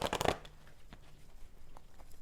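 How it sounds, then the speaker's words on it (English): Angel oracle cards are shuffled by hand in a quick burst of papery riffling at the start, followed by a few soft card taps and slides in a quiet room. "And I just shuffle until they tell me to stop."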